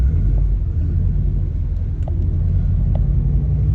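Subaru hatchback fitted with a Cobra exhaust, a deep continuous low engine rumble heard from inside while cruising, loud and steady with faint clicks over it.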